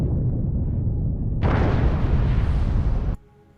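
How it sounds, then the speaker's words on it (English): Explosion effect from a Halo 3 mod of the Strato Sentinel, a dense roaring blast that swells sharply midway, sustains as a loud rumbling burst, then cuts off abruptly into a quiet tail. "We have explosion building as well, which I think was pretty good."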